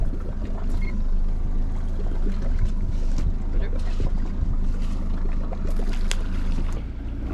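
A small fishing motorboat motors along between crab and salmon spots, giving a steady, close, low engine rumble with water wash and wind noise, and light knocks on the hull.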